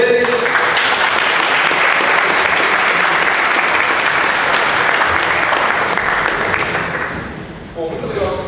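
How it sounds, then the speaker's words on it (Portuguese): Loud, dense applause from a crowd thanking volunteers who came up to help, sustained for about seven seconds before thinning out, with voices starting to talk near the end. "Uma salva de palmas para eles."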